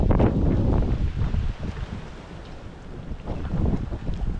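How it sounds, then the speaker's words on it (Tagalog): Strong wind roars across open sea around a small boat, a loud, continuous rushing and buffeting against the microphone, mixed with the wash of water and waves. "lakas ng hangin, harurot pang hangin."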